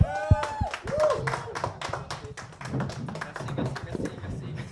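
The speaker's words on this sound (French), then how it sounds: "j'aimerais qu'on applaudisse tout le monde" A podcast studio audience applauding as a guest is welcomed, with a dense patter of claps and excited voices and whoops mixed in close by.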